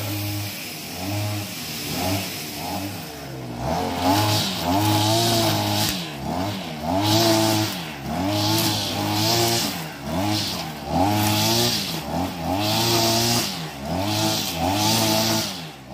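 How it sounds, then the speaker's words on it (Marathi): Grass cutter machine working behind a temple, its small engine revving up and down in repeated surges for about a dozen cycles, steady and fairly close with no talk. "आपलो कटर मशीन लावला ना, तिकडे गवात कापतात"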